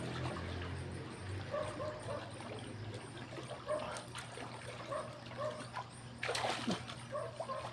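A dog splashes and paddles in water, giving repeated soft sloshes and dribbles close by over a low steady hum, with a brief louder splash near the end.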